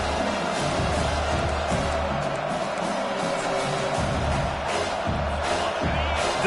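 Stadium crowd at a football game roars steadily behind the defense on third down, a dense sustained cheer with swells of noise throughout.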